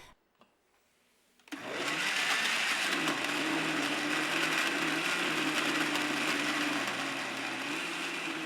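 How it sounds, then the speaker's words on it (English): A blender whirs steadily, blending curry paste ingredients (spices and aromatics) with a quarter cup of water into a liquid paste. After a brief quiet start the motor starts abruptly and then runs continuously and loudly. "Now blend everything together until you have a well-mixed liquid paste."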